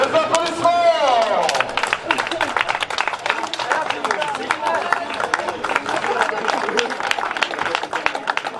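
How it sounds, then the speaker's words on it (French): Crowd applause and cheering at the finish of a summer cross-country ski championship, dense continuous clapping with voices mixed in; a voice rises at the start, then the clapping stays steady and loud. "Les applaudissements."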